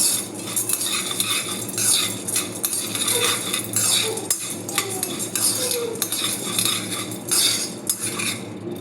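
Soybeans dry-roasting in an iron kadai give a steady scraping and clinking of a utensil stirring against the metal pan, with rhythmic metallic scrapes running throughout at close range and no talk.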